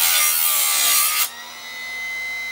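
A Harbor Freight chainsaw chain sharpener grinding a single chain tooth, a loud, close, steady high-pitched grinding whine for about a second, then dropping to the quieter hum of the motor running on.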